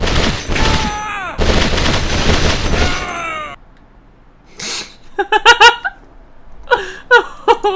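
Clustered gunfire bursts from the video game Conflict: Desert Storm, several short volleys in the second half, preceded by a stretch of raised voices and a quiet gap.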